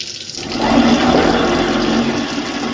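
A steady mechanical grinding whir with a watery hum from a sink food waste disposer grinding scraps, continuous and close, swelling slightly after the start and holding for a few seconds.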